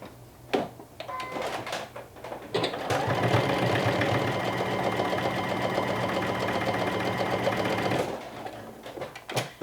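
A sewing machine stitches down a folded one-inch hem on fabric for sportswear, running in one steady, even whir for about five seconds, with handling clicks and knocks before and after.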